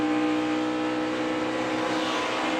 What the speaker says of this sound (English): We hear Kevin Harvick getting out of the gas.